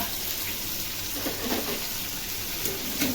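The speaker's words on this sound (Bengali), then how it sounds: "এখন একটু নাড়াচাড়া করে একটু ডাটাকে ভেজে নেব" Cut vegetable stalks fry in a pan, giving a steady, fairly quiet sizzle with faint stirring scrapes and no voices.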